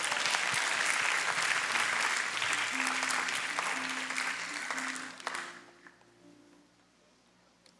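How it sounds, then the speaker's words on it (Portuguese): A church congregation at a youth worship service claps together in steady, dense applause that fills the room, then fades away after about five seconds, leaving a faint tone. "vamos aplaudir a Jesus por isso."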